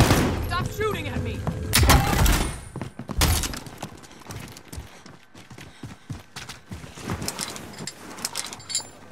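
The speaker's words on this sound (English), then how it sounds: "Stop shooting at me!" Bursts of gunfire in Call of Duty: Modern Warfare, with sharp, loud shots clustered early, then scattered quieter pops and thumps. Players talk over parts of the action.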